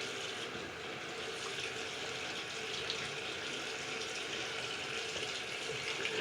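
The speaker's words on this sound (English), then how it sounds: "Let me rinse my little pad off here." Water from a tap runs steadily as a facial pad is rinsed under it, making a soft, continuous hiss and splash close by with no talking.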